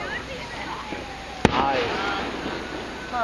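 Fourth of July fireworks over Stroudsburg and East Stroudsburg, Pennsylvania, in 2012: one sharp, loud burst rises out of a steady background of crackle and faint whistling shells, with spectators talking nearby.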